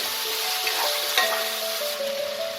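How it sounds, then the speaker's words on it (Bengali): Soaked black chickpeas are stirred in hot oil with a soft, steady sizzle, a few light scrapes and a faint tonal hum running underneath; quiet and close, with no speech. "দিয়ে ভালো করে তেলে একটু 1 মিনিটের মতো নাড়াচাড়া করে নেব"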